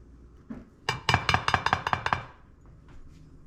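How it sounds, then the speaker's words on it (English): A metal pan lifted in a kitchen clinks sharply against dishes, a quick run of about ten bright metallic knocks in close succession, loud and near. "hopefully I can lift this pan in here"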